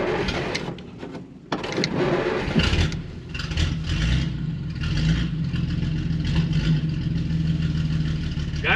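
A 1940 Plymouth Deluxe, left unused for decades, with its engine running loud and close as the car moves off in first gear; a steady rough drone with small swells in level.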